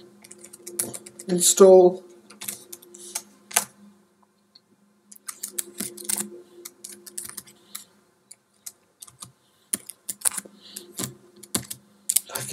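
Keys clatter on a computer keyboard in quick bursts as a package name is entered for R software, with someone talking between and over the typing at close range.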